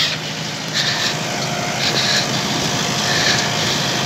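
A 2018 Zetor Major CL 80 tractor engine runs steadily at a constant drone, close and fairly loud, with no talk over it.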